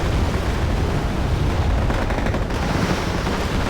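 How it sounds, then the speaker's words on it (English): Artillery barrage on Milan vehicles in Wargame: AirLand Battle, a loud, dense and continuous roar of distant fire and blasts rumbling without pause, with no voices. "I'm firing artillery on these Milan vehicles over here"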